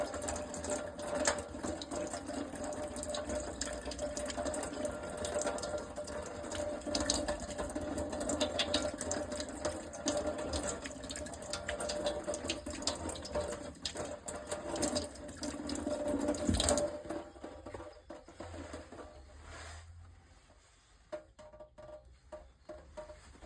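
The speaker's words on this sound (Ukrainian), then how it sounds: "Водою, гарно змиваємо." Steady rush of running tap water close by, rinsing mold and mildew off banknotes, continuous for most of the clip before cutting off and leaving a few quieter trickles.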